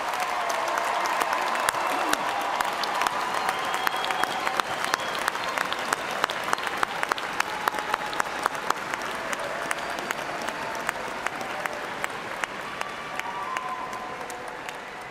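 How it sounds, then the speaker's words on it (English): A large crowd at an Eastern Kentucky University fall evening commencement bursts into sustained, dense applause for the new graduates, loud and steady for about fifteen seconds and slowly tapering. "let us recognize with a hearty round of applause Eastern Kentucky University's"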